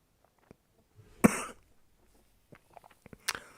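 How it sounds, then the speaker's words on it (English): A single loud, harsh cough bursts out, followed by a few quieter clicks and a sharper second burst near the end. "I am going to cough quite loudly"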